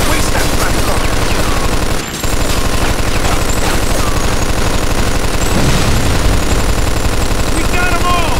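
Dense, rapid automatic gunfire in the Mafia II video game rattles continuously at close range with a brief gap, with game dialogue under the shooting.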